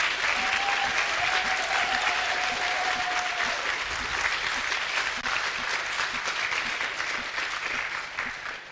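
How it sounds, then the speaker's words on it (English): Audience at a talk bursting into loud, sustained applause, a dense continuous wash of clapping from a large crowd, steady for several seconds before easing slightly at the end. "Applause for Ian Crane"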